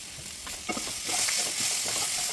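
Chillies and tamarind sauté in a pan for garlic chutney, a steady close sizzle with scraping stirs and small crackles running throughout, no voices.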